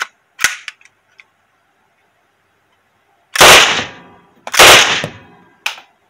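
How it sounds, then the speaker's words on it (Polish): A PPS-43 submachine gun fires outdoors: a few sharp single cracks early on, then two loud, close bursts of rapid automatic fire, each ringing off briefly before a final short crack. "Strzelanie to jest z PPS-a 43"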